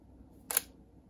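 A Sony ZV-E10 camera fires its shutter on the self-timer, one short crisp click in an otherwise quiet setting.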